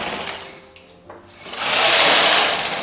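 A knitting machine carriage sweeps across a row of needles, a close mechanical whir and clatter that dips briefly and then swells to a loud rushing pass, with no voices.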